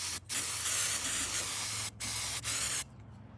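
Aerosol spray paint hisses in steady close bursts onto 16.5-inch Humvee tires for a 1952 Ford build with a 7.3 diesel, with three short pauses between passes and no talking.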